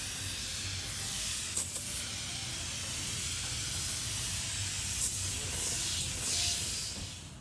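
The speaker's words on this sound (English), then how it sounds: "So now I'm about to degrease his head. Clean him. All that old stuff out." Degreaser is sprayed over an engine cylinder head in a garage, giving a steady, fairly quiet hiss that runs throughout with a few brief louder spurts, and no talking.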